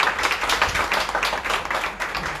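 Congregation at a live prayer service in Ludhiana clapping hands together, a brief burst of rhythmic, fairly close claps.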